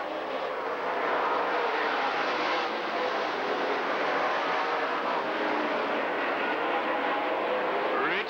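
Race cars at a speedway roar together as the green flag falls, a dense, loud wall of engine noise building and holding steady as the field accelerates, with no voices audible.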